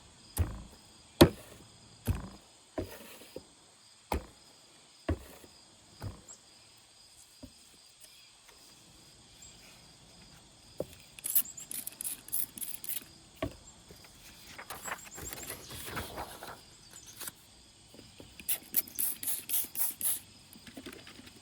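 Coffee being swirled and shaken in a container for dyeing paper, heard as a run of sharp, separate knocks and taps at first, then bursts of rattling, ratcheting patter in uneven clusters, close by with no talking.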